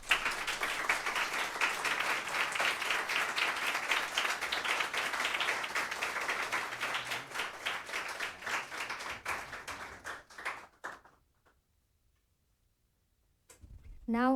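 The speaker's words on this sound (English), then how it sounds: "Please round applause, everyone" Workshop audience gives a round of applause, a steady dense patter of many hands clapping for about ten seconds before it fades out to near silence, followed by a brief rustle at the end.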